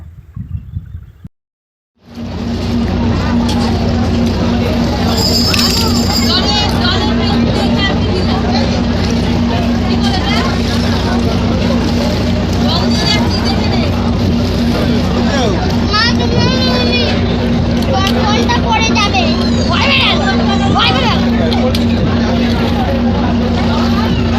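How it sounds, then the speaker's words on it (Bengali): A passenger ferry launch travels on the river toward Belur Math, its steady engine drone running throughout beneath constant crowd chatter from passengers aboard, after a brief quiet moment at the start. "তারপর ফাইনালি আমরা লঞ্চে উঠেও গেছি"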